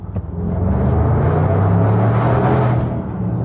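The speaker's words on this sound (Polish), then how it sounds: "to auto brzmi naprawdę fajnie" A Range Rover Sport engine and exhaust give a deep, steady rumble that swells and holds loud and close for a few seconds, with no talk over it.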